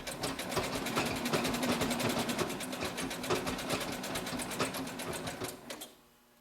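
Sewing machine stitching stretch fabric for a pair of leggings. Its needle taps rapidly and evenly up close, running steadily for about six seconds before it stops abruptly.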